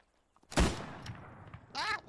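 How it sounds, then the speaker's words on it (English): A single sudden loud gunshot from a WWII video game weapon cooking off, sharp and close, followed by a short ringing tail and then a startled voice shouting. "apparently the weapon cooked off"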